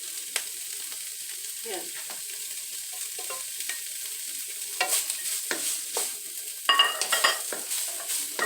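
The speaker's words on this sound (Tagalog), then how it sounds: "Kaya ganitong ginagawa ko, nagluluto ako pang merienda." A snack cooking in a pan on a home stove, soft continuous sizzling with intermittent scraping and clinking from a spoon stirring, and a brief word spoken over it.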